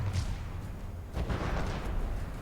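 Heavy cannon broadsides from pre-dreadnought battleships in a naval combat game, heard as a dense rolling rumble of overlapping booms with no clear separate shots, steady and fairly loud throughout.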